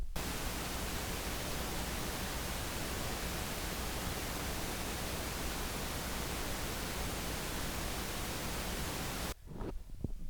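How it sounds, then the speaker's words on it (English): Steady, unbroken broadband hiss like white noise pours from a plugged-in Forum Novelties life-size animated witch, even and fairly quiet for nearly the whole stretch, then drops away abruptly just before the end. "whenever she's plugged in, she makes white noise"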